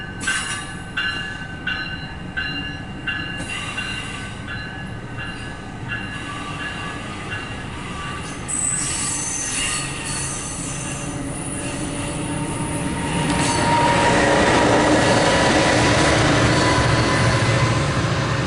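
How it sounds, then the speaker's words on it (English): MARC commuter train 878 departs Gaithersburg eastbound on track 2, its wheels squealing loudly and steadily as the cars roll past nearby, the rumble building toward the end. "Marc 878, Mark 83, eastbound number 2 track departing Gaithersburg"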